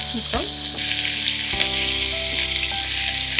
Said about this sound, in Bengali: এখন জাস্ট শুধু চিকেনটাকে ফ্রাই করে নিচ্ছ